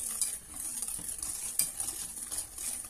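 Cornstarch, eggs and sugar are stirred together in a bowl for pastry cream, with soft, rapid, wet scraping and light clinks of the utensil, fairly quiet and close, with no talking.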